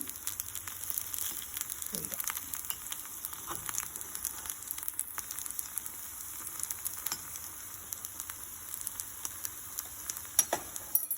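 Kuzhi paniyaram fries in a pan with a steady, faint sizzle and crackle. Small pops are scattered throughout, and the sound stays close and continuous with no voices.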